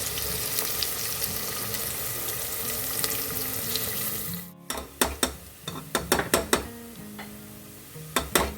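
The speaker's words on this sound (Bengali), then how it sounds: "ওদিকে আমি বেগুন ভেজে আর লুচিটা করে নিচ্ছি" Eggplant slices frying in hot oil in a pan give a steady, dense sizzling hiss. It breaks off abruptly into a run of sharp clinks and taps from a utensil against the pan.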